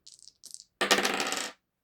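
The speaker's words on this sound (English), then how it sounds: "I'm gonna roll the dice." Dice for a reading-game pick are rolled onto a hard surface: a few light clicks and rattles, then a brief burst of clattering tumbling that stops abruptly, with no voices.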